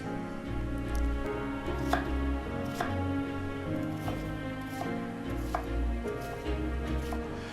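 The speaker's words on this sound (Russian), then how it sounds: "Нарежьте его, ну, таким, скажем, достаточно крупным кубиком." A knife chops an onion into large cubes on a cutting board, sharp regular knocks repeating close by in a quiet room for several seconds, with no one talking.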